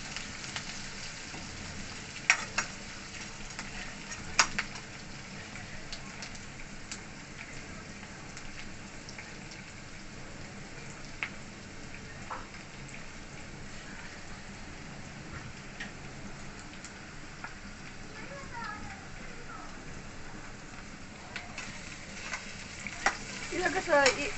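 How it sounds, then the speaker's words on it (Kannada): Onions frying in a pan for rice rava upma, a steady soft sizzle with occasional spatula scrapes and clicks scattered throughout, close but fairly quiet, with no one speaking. "ಈರುಳ್ಳಿದು ಹಸಿ ವಾಸನೆ ಹೋಗೋವರೆಗೂ ನೀಟಾಗಿ ಫ್ರೈ ಮಾಡ್ಕೋಬೇಕು ಫ್ರೆಂಡ್ಸ್"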